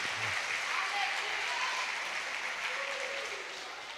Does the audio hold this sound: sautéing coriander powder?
no